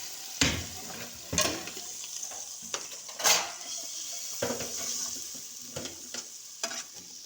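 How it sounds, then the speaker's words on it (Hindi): Hot tadka of oil with cumin seeds and dried fenugreek is poured into a pot of kadhi. It sizzles in a few sharp bursts, with clinks of a metal pan and spoon, close and alone. "अब हम कढ़ी में तड़का डाल देंगे।"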